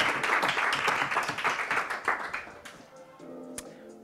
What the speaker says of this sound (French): je vous propose d'applaudir très fort et d'accueillir très fort notre quatrième candidate.